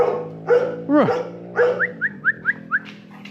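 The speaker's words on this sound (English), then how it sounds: "What are you barking at?" A dog barks close by, a few drawn-out yelping barks followed by a quick run of five short, sharp barks.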